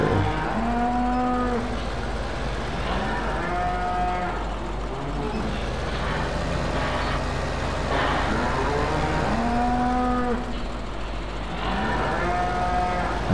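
Beef cattle in the video game Farming Simulator 2015 moo repeatedly, their long loud lowing calls overlapping in a regular rhythm over a constant low engine hum.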